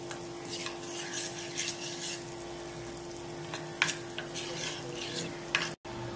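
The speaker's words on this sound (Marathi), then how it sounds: "आता हे चमचे मिक्स करून घेऊ." A spoon stirs cornflour into water in a small bowl, producing faint scraping swirls and a few sharper clinks over a low steady background hum.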